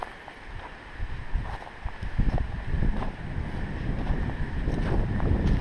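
Gusty wind buffets the microphone with low rumbling bursts, rising and falling in strength over a continuous windy roar outdoors.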